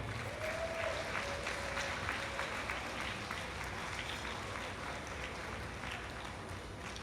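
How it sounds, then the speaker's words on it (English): A gala audience applauds a police colonel at a Kalayaan grand gala, with continuous crowd clapping at an even, moderate level and a faint whistle-like tone rising briefly early on. "Please give a big round of applause to Police Colonel Maria Cecil Viloria"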